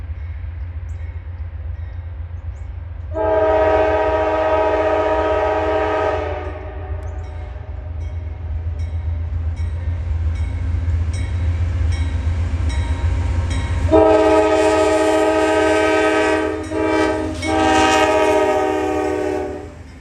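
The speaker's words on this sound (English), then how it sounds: "The first train we caught this morning was C-122, a loaded coal train" A long, loud train horn sounds twice, with the steady low rumble of a heavy loaded CSX coal train rolling by between and under the blasts.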